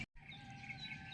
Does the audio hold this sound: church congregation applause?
no